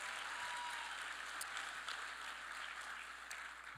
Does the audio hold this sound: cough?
no